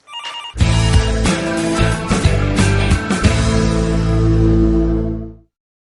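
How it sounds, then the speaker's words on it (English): An office telephone rings on and off in repeated electronic bursts lasting several seconds, loud and close, with no talk over it. "Linda, the phone is ringing."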